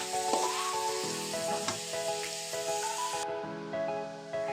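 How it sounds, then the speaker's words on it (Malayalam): Coconut, garlic, ginger, onion and curry leaves being sautéed in a pan give a steady close sizzle with stirring scrapes throughout, no voices. "തേങ്ങ, വെളുത്തുള്ളി, ഇഞ്ചി, ഒരു സവാള, കറിവേപ്പില ഇതെല്ലാം കൂടിയിട്ട് നന്നായിട്ടൊന്ന് വഴറ്റിയെടുക്കണം"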